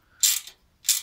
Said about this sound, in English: with my 10 millimeter ratchet wrench, I tighten these